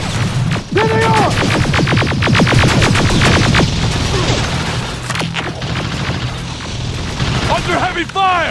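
Heavy gunfire and explosions in the Terminator Resistance video game: dense rapid bursts of shooting and booming blasts, loud and continuous, with shouted voices and radio-like chatter mixed in.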